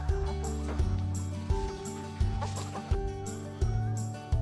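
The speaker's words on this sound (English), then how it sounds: "Almost a complete semicircle with the chickens." Hens cluck in a pen at a chicken farm in Uddeholm, Värmland, Sweden, their repeated calls rising in regular pulses over a steady low hum.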